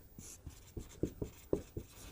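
Chalk or marker strokes on a board during a physics lesson, a series of short scratchy taps and scrapes in an irregular rhythm, close and fairly faint, with no talking.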